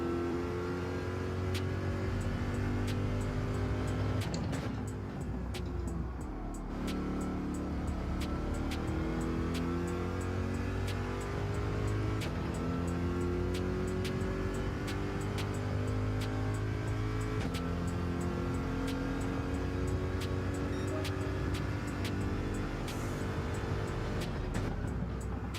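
Race car engine in Gran Turismo 7 holds a continuous loud drone through the whole stretch, pitch sweeping up and down with shifts and throttle, with brief lifts for braking and no talk.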